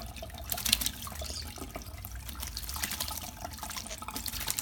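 Running water streams steadily during a pet bird's bath, with a continuous splashing, trickling wash close by and no talk over it.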